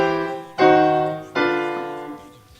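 Two slow, sustained piano chords struck about a second apart, each ringing out and decaying, followed by a softer fading tail.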